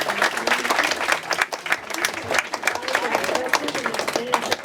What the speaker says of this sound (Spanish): le damos un aplauso nuevamente